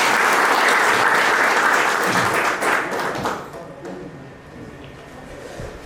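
An audience at a school reunion get-together applauds the teachers, a dense burst of clapping from a crowd that holds strong for about three seconds, then thins into scattered claps and murmur.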